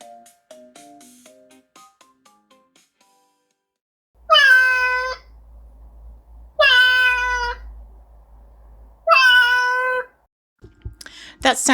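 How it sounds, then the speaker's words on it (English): A male house cat meows loudly and insistently, demanding a late breakfast: three long drawn-out meows evenly spaced a couple of seconds apart, close to the microphone, after a few faint tonal notes. "That sound you just heard is my cat"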